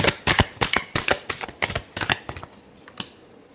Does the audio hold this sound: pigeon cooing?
no